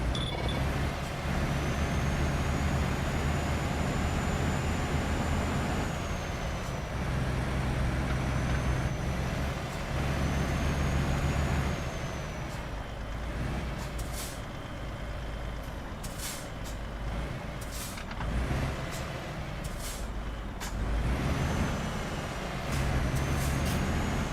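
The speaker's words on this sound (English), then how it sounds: "That's that pump truck just took off like a bloody rocket in front of me, man." A pump truck pulling away in Euro Truck Simulator: a loud, steady diesel engine drone with a high whine, then a run of sharp air-brake hisses and clicks, heard close and alone.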